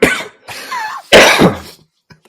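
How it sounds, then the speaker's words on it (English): A person coughing up close in a podcast setting, a couple of harsh, loud coughing bursts separated by a short pause, with a faint trailing throat sound at the end. "I'm just going to cough."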